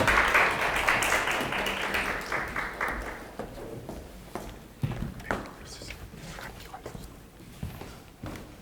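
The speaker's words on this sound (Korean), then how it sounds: "큰 박수로" An audience at a parents' school session applauds to welcome a speaker, a loud burst of clapping in the first few seconds that fades into scattered claps, shuffling and footsteps.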